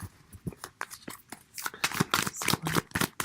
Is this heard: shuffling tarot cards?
yes